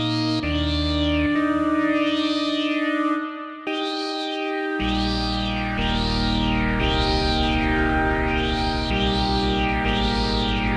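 An Arturia PolyBrute synthesizer plays sustained tones with a wobbling, sweeping pitch, washed in reverb that trails and blurs the notes; a brief gap interrupts before it resumes.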